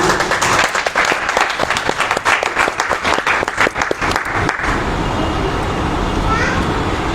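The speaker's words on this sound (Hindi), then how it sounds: "एक सुंदर ताली बजाएंगे" An audience breaks into loud, dense clapping for about four and a half seconds, then the applause stops abruptly, leaving a faint background hum.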